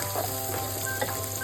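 A chopped medium-sized onion stirs and sizzles in hot oil in a pan, with a steady close frying hiss and a few soft scraping touches throughout, no voices.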